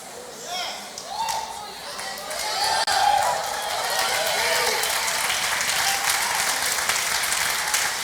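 A church congregation applauds loudly and steadily through a worship service, a dense continuous clapping wash that swells and holds, with a voice speaking over it.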